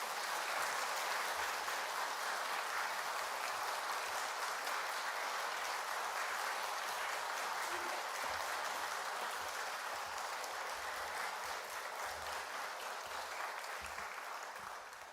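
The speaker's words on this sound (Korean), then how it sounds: "나오실 때 우리 박수로 환영해 주시면 감사하겠습니다." A congregation applauds to welcome a preacher at a Sunday church service, a long, steady wash of many hands clapping, moderately distant, holding evenly and tapering slightly at the end.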